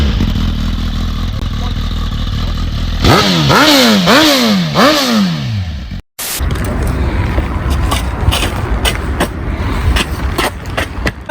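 A Suzuki GSX-R fitted with a Haro exhaust and Yoshimura silencer revs hard at close range, with several rising and falling throttle blips before a brief cut, then a loud, rough idle with scraping clatter.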